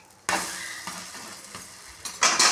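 Appam adai batter being flipped in a hot pan sizzles softly, broken by a few sharp scraping taps of the spatula and a louder flurry of turning at the end.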